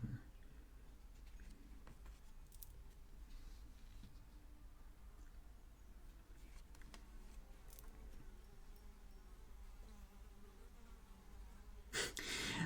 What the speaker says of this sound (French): Vous devez certainement entendre les zzzz qui tournent. Oui, ça vous prouve à quel point les mouches, je n'en peux plus.